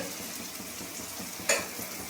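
Spice paste for a shol fish curry sizzling and being stirred in a pan, a soft continuous crackle with a single brighter clink or scrape partway through.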